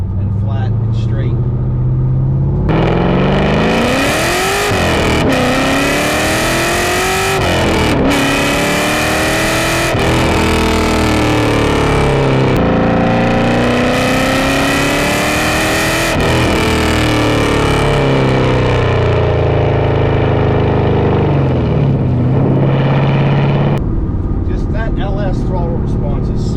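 An LS V8-swapped BMW E36 M3 making about 450 hp revs hard through repeated throttle pulls on a flat, straight road, its engine note rising and dropping loudly and continuously from the cabin, with a voice talking over much of it.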